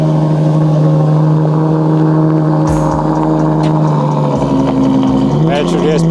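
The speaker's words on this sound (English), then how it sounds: "And here we have a start of the Ferrari FF." A Ferrari FF's naturally aspirated V12 runs loud and close at a supercar meet, a deep steady idle with a few light blips, as people chatter nearby.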